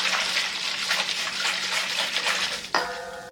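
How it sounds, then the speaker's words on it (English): Warm milk, sugar and dry yeast whisked in a bowl, a continuous fast scraping swish that ends with a metallic clink of the whisk against the bowl. "And whisk well."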